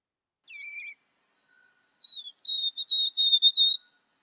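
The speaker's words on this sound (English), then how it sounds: "For white-throated sparrow, many people, it sounds like the bird is singing Old Sam Peabody" A clear whistled white-throated sparrow song: a short opening note, a pause, then a series of high, pure whistles in a steady run, alone against silence.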